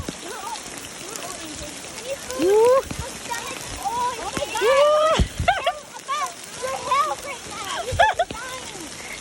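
A heavy hail storm pelts surfaces with a dense, constant patter and splatter, close and loud throughout, while children and adults talk and call out over it.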